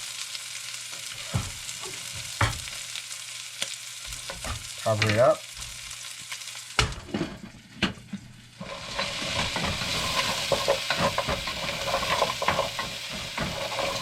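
Steady loud sizzling of browned meat with cilantro frying in a pan, with stirring and utensil clatter; a brief spoken remark cuts in partway, then the sizzle swells.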